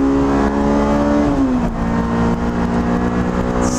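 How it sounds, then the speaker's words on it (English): A Honda S2000 AP2 engine holds a high, loud rev in a steady, sustained drone, then the pitch drops slightly and settles, close and continuous with no talking. "Snaps those revs real fast."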